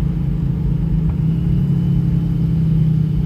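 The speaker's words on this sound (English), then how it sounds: "Exhaust brake is on." A Cummins-powered truck with an Allison transmission slows toward a stop with the exhaust brake on, giving a loud, steady low rumble throughout with no break and no talking.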